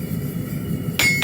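A single ringing hammer blow lands on metal being beaten flat, sharp and close, right after a steady low rumble.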